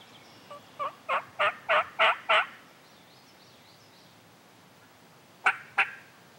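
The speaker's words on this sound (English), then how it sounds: "As the gobbles got closer and closer" Wild turkeys gobble in the Michigan woods during a spring hunt: a rising series of about six gobbles rolls out at moderate distance, then after a quiet pause two more sharp gobbles sound closer, with no talking.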